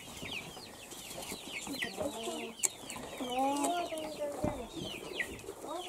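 Several chickens and chicks cluck and peep nearby, overlapping in short bursts, with faint voices in the background.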